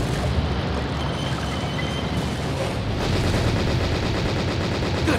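Tank cannon and machine-gun fire from the World War II tank game Panzer Elite Action, a dense rolling barrage of booms and rattling bursts with no talk, loud and continuous.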